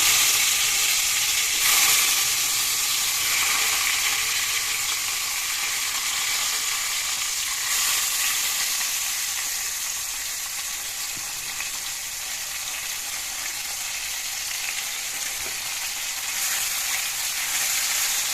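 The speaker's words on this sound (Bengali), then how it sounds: "ইতিমধ্যে কেৰাহীটো মই গৰম হ'বলৈ দিছোঁ তাৰপিছত এতিয়া মই মাছখিনি ফ্রাই করে ল'ম" Local fish frying in a hot wok for a traditional Assamese dish, a steady loud sizzle that holds without pause for the whole stretch, with no talking.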